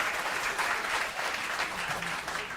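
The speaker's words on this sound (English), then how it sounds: "Can you play that applause button thing?" A recorded round of applause plays from a sound-effect button in a radio studio, a dense even wash of clapping and crowd noise at moderate volume for a couple of seconds.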